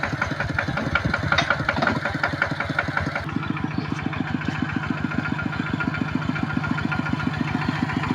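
A tuk-tuk's small engine runs steadily throughout, its close, loud, rapid chugging pulses continuous with no talk over it.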